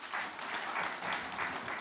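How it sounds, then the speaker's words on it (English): An audience at a university innovation week applauds a panel, a brief, fairly distant wash of many hands clapping. "And a hand clap for my panel."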